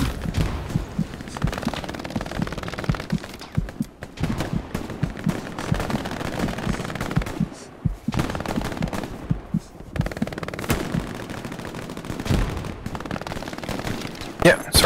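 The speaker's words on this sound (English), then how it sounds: "There's an MG on this like path wall over here." Machine gun fire in the video game Hell Let Loose, with repeated bursts and scattered shots from near and far and players talking over the gunfire.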